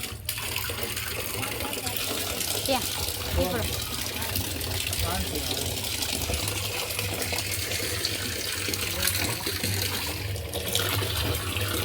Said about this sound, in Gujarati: આપણે પાણીના નળ પણ આવી ગયા છે